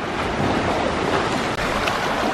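A swimmer's feet break the surface during a pool training set, producing constant churning splashes and rushing water, close and loud throughout.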